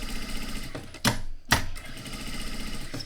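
Sewing machine stitching over an earlier seam on a bag, attaching fusible interfacing to the fabric, a steady close mechanical hum broken by two brief sharp handling noises, with no talk.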